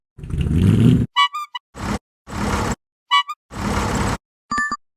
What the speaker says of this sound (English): Sound is tractor idling